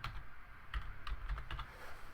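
Computer keyboard typing, a short burst of several clicky keystrokes at close range with a low background hum and no talking.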